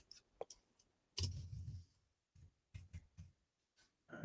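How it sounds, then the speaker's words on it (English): Quiet keyboard typing on a computer, scattered clicks and short bursts of key presses at close range, uneven rhythm with pauses. "let me finish typing this into Google."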